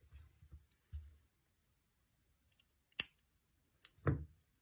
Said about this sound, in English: And trim the ends.